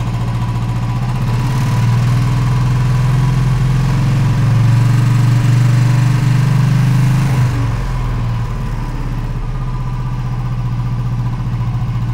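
A Royal Enfield motorcycle engine runs loud and steady nearby, its low throb swelling as the throttle is held open for several seconds and then easing back to a slightly quieter idle.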